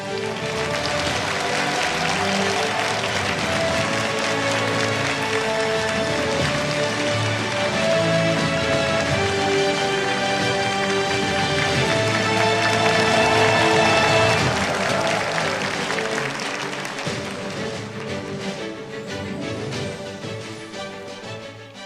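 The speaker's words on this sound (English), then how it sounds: "Please give her a big round of applause." Audience at the 2023 International Women's Peace Conference applauding: a dense, sustained clatter of many hands that holds steady, swells slightly, then thins toward the end.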